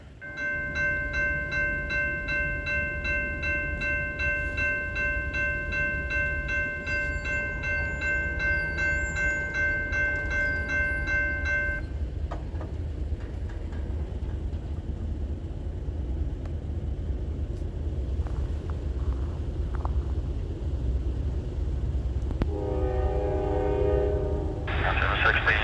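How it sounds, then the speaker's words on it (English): Train locomotive throttling up at a trackside railfanning spot, a steady low rumble running throughout with a sustained tonal horn-like sound early on, heard from some distance beneath a faint voice. "I can hear him throttling up right now."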